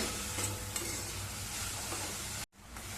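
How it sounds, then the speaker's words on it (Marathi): Jaggery being stirred into grated coconut in a pan over low heat, a steady close scraping and soft sizzle running continuously before a brief sudden drop near the end. "आता चांगला गूळ आपल्याला सगळ्या खोबऱ्यामध्ये एकजीव करून घ्यायचा आहे, चांगला मिसळून घ्यायचा आहे."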